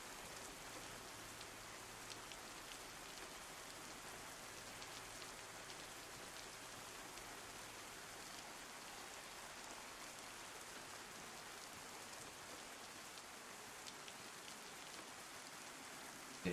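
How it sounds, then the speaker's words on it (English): Rain falls steadily in the video game DayZ, a constant soft hiss that stays even and faint throughout, with no voices or other sounds. "then the rain doesn't really help with that"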